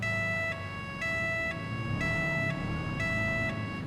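Police siren tone number 3 from the FiveM game, a loud, steady two-tone wail alternating pitch about every half second, clear and close, with no voices.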